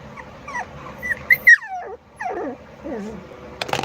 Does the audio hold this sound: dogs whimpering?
yes